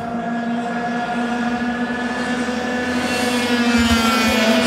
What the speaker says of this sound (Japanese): さあ、どうやら鈴木のエンジン火が入りました。